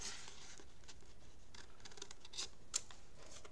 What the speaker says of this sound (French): Il reste encore un petit coin à découper.